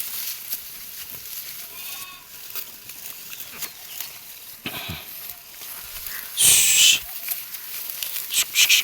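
Sheep bleat a few times out in the open, the loudest cry short and close near the middle of the stretch and fainter calls around it, with no talk over them.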